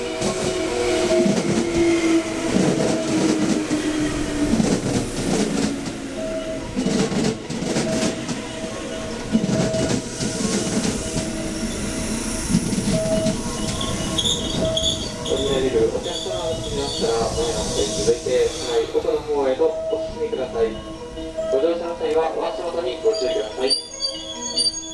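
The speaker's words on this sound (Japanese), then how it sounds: "2番乗り場に到着の電車は7時37分発普通電車の別行きです。" A JR West electric commuter train pulling into Zeze Station, its wheels rumbling and squealing continuously on the track while a Japanese platform announcement plays over the noise.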